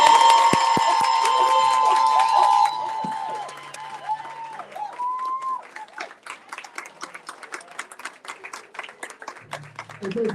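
A live audience at an Independence Book Day event with a guest bursts into loud, dense clapping and cheering for nearly three seconds, then the applause drops away to scattered claps under people talking.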